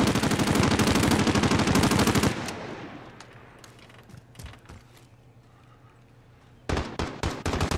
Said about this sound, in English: I'm getting shot at from the back